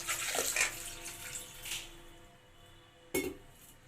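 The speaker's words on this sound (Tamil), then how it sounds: "இப்போ தண்ணி ஊற்றி வேக வச்சுக்கலாம்." Water poured into a pressure cooker holding a quarter kilo of washed elephant foot yam, a splashing broadband rush in the first two seconds, then a short sharp clatter of metal near the end.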